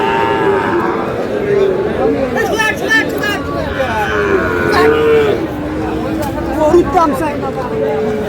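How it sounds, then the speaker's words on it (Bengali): Several Friesian and cross-breed bull calves moo repeatedly at Aftabganj cattle market, with loud nearby lowing calls rising above a busy crowd murmur and steady background chatter. "এখানে গরুটি দেখছেন রহিম ভাই।"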